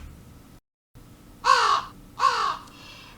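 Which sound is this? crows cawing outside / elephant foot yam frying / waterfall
crows cawing outside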